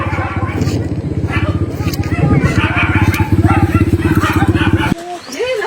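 A motorcycle engine idles close by with a steady, rapid throbbing pulse that cuts off abruptly near the end, while several people chatter in the background.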